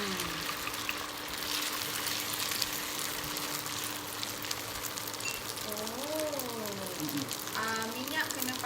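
Kuey teow noodles and egg fry in hot oil with a soft, steady sizzle and crackle, faint and continuous beneath a person talking throughout.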